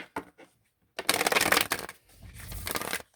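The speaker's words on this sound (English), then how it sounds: "Let's do another quick shuffle." Tarot cards riffled and shuffled in two quick bursts, close and crisp, with brief soft handling noises before and a pause between.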